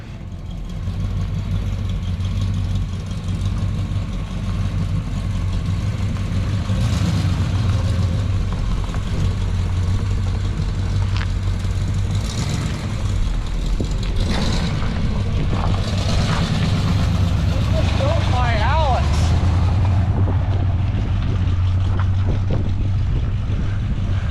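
A Chevrolet Camaro-based split-bumper conversion car backing up in reverse, its engine running in a loud, steady rumble for the whole stretch with faint creaks and rattles over the top.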